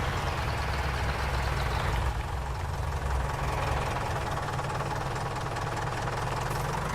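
Tractor engine in the Farming Simulator 19 game, running steadily at close range with a low, rumbling knock, alone without talk for the whole stretch.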